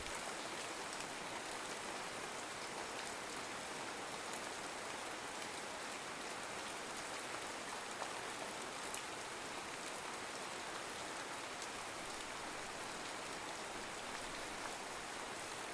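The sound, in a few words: rain falling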